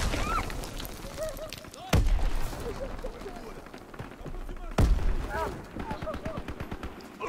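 Gunfire in the World War II shooter Call of Duty: WWII, with two sharp, loud shots or blasts standing out above a steady rattle of distant battle noise, while someone talks throughout.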